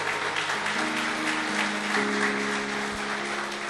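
Steady applause from a large church congregation during a sermon fills the clip, with a sustained organ or keyboard chord ringing underneath.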